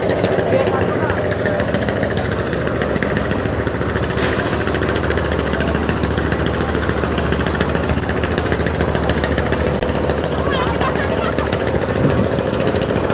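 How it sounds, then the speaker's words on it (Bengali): A steady, loud engine drone and rumble of launches at the Sadarghat river terminal in Dhaka runs throughout, with someone talking over it. "আছি ঢাকা লঞ্চ টার্মিনালে"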